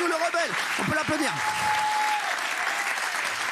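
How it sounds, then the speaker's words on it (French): Studio audience applauds a guest on a French TV talk show, a dense steady wash of clapping filling the clip while a host's voice and a brief sustained tone sit over the start. "On peut l'applaudir."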